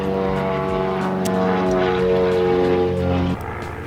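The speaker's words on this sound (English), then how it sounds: "now a plane wants to fly above while I'm recording my video." A propeller airplane flies overhead with a loud, steady droning engine hum that holds near and strong, then drops off slightly toward the end, with no talking.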